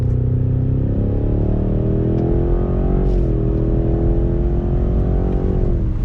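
A 2019 Cadillac CT6-V Blackwing full-size performance sedan accelerates in track mode. Its engine drones loud and steady from inside the car, with a brief dip midway as if shifting gear, and no talking.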